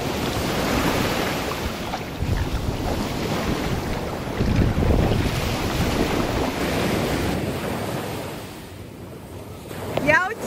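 A boat moves over open sea as waves slosh and wind buffets the microphone, with faint voices now and then.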